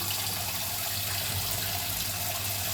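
Steady running water as boiled vegetables are plunged into cold water, continuous and soft, like a tap pouring into a basin, with no voices.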